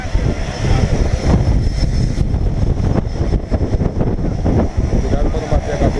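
A small skydiving airplane's engine and propeller drone loudly and steadily from inside or beside the aircraft, with wind rush and people talking over it.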